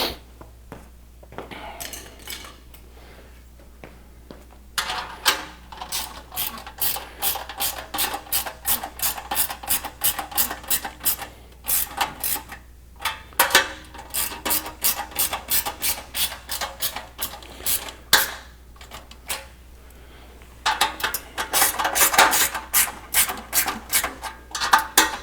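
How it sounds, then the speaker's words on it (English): A hand wrench ratcheting bolts on a Consew 206 RB5 sewing machine table, with quick repeated clicking bursts separated by short pauses, close and fairly quiet. "Grab the wrench."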